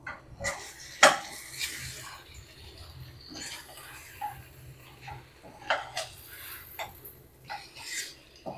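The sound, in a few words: stirring potato egg masala in a pan with coriander leaves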